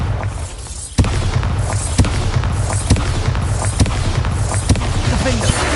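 Bombarda spell explosions in the video game Hogwarts Legacy: a string of sharp booming blasts about once per second over a dense, steady rumbling background.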